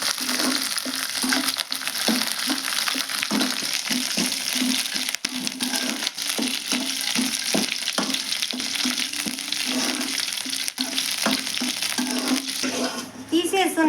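Curry leaves frying in hot oil in a pan, a loud, continuous close-up sizzle with rhythmic stirring scrapes throughout and a crackling burst toward the end.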